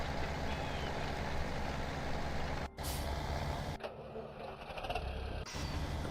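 A tractor engine runs in Farming Simulator 17 with a loud, continuous mechanical rumble throughout, broken by a couple of brief dropouts and a hissing burst partway through.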